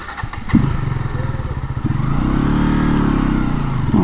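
A modified KTM Duke 200 motorcycle rides off, its single-cylinder engine chugging loudly up close, then revving higher and holding a strong, raspy drone.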